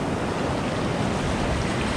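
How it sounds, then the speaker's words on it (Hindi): Big ocean waves crash and surge onto Trinco Beach in Sri Lanka, a loud, continuous roar of surf with wind buffeting the microphone. "बड़ी ऊंची ऊंची लहर आ रही है।"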